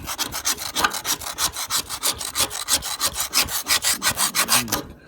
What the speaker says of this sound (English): get into this stuff, get all the scale off, which isn't easy